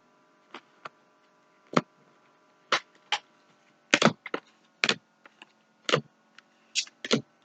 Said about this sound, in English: it's pre-shuffled, so I'm just going to cut the deck.